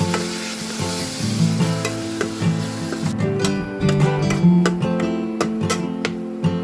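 A tadka of ground tomato and garlic, scorched slightly, fries in a pan with a steady sizzle and occasional stirring scrapes, close and fairly loud, with a faint steady hum beneath.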